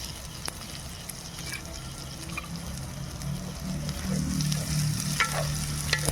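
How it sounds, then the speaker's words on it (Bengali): Onion and green chili paste fries in a clay pot for chicken kosha with a steady, close crackling sizzle and occasional stirring scrapes, plus a faint low hum underneath. "এবার এতে দিয়ে দেবো পেঁয়াজ লঙ্কা বাটার পেস্ট"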